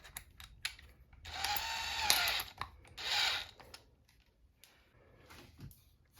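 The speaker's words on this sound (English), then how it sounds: "Now I'm gonna use this 7/16" A 7/16 wrench turns a bolt on a tilting TV wall mount, giving a quiet, close scraping and clicking ratchet-like run of about two seconds, then a shorter burst and sparse small taps.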